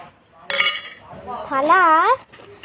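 Small toy kitchen plate and utensils clink together in a short bright burst, followed by a voice talking nearby.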